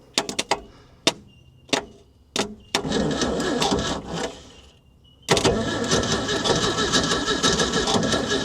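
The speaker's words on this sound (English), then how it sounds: "I've got 12 volt going straight to the starter, but she doesn't sound like she wants to play." An old Ford fire truck that sat for years, with 12 volts fed straight to the starter, cranks in several short sharp bursts before turning over into a longer sputtering run that drops off and then roars again, close and loud.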